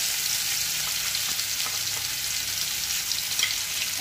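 Crushed garlic and green chillies fry in hot oil with a steady, close sizzle and crackle that holds evenly throughout, with no voices.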